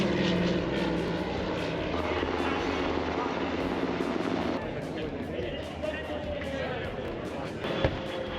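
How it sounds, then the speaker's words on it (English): A propeller plane roars loudly overhead at the Oshkosh airshow, its droning engine swelling and then fading as it passes. "flybys of large civil and military aircraft"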